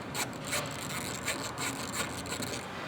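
A hand ratchet clicks in quick rhythmic bursts while loosening T30 bolts on the rear diffuser of a 2022 Porsche 992 GT3, close-up and moderately quiet with no talking.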